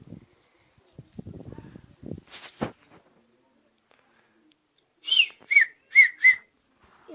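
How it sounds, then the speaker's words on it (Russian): Shrill two-finger mouth whistles sound in four sharp, loud blasts in a quick rhythm, after a stretch of soft rustling and breathy handling noises. "покажу вам свистеть вот так и разными пальцами"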